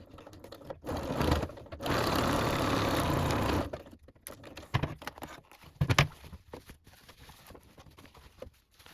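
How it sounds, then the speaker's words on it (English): A sewing machine stitches a laptop bag pocket in short bursts, with a steady run of fast mechanical whirring in the middle, surrounded by handling clicks, thumps and pauses close by. "Sewing the triangles in the reverse will make the pocket stronger."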